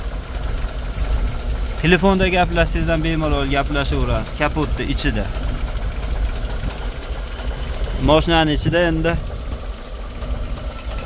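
A new GAZ truck engine (GAZ-53/GAZ-3307/GAZ-66 type) idles with a steady low rumble throughout, while someone talks over it for most of the time.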